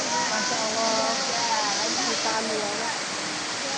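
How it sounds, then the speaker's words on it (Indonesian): Penumpahan waterfall in Pagar Alam, South Sumatra roars as a dense, continuous rush of falling water, loud and close, with no break throughout. "Inilah air terjun penumpahan yang berada di Pagar Alam"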